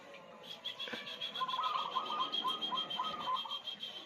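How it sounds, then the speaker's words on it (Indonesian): A pair of perkutut (zebra doves) being trained to sing in duet coo in soft, repeated rhythmic phrases at moderate distance over faint daytime background noise. "Duet perkutut sembrani sama Jatayu."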